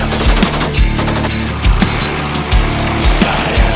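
Machine gun fire rattles in repeated short bursts, loud and close, with sharp regular reports and brief pauses between volleys.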